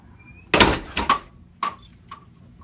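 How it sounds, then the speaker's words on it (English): A hinged door in an active shooter training scenario opens with a sharp thunk, then a few quick knocks and rattles, close and fairly loud in a quiet room. "The way that this door works, by hinge, it opens up, right?"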